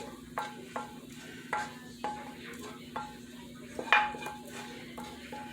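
Hot peanut brittle candy scraped out of a pot with a spoon onto a buttered pan, heard as repeated sharp metal scrapes and knocks at an uneven rhythm over a low steady background hum.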